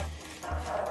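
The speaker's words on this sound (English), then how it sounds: "And once we got Jenny, our neighbour complained about her barking 24 hours a day" A dog, kept indoors near an open window, gives a single short, muffled bark, fairly faint and slightly distant against a low background hum.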